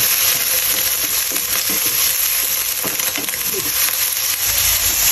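Onion sautéing in a hot pan for a stir-fried green winged bean dish, a steady dense sizzle with scattered stirring scrapes and clicks throughout, close and loud, no talk.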